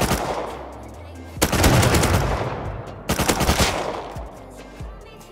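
Rapid automatic gunfire in the survival game Rust, two loud sustained bursts of shots separated by a brief lull, with quieter single shots trailing off.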